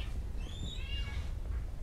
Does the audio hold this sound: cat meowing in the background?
yes